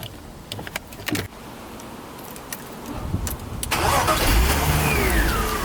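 A BMW E46 is started after a power steering flush: clicks and rustles give way to the engine cranking and catching, then settling into a steady, close idle with a faint whine, no talk.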